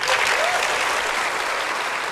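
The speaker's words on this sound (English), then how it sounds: "Give yourself a round of applause." Brief burst of audience applause at an Apple WWDC keynote, a dense crowd clapping loudly and evenly for a couple of seconds.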